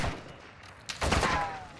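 A burst of gunfire in Modern Warfare II, a sudden crack followed by rapid shots, fairly close and loud, with no talk.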